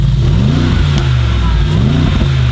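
A Jeep's twin-turbo V8, running without an aftermarket exhaust, revs up twice in rising, droning pulls over a steady loud engine hum.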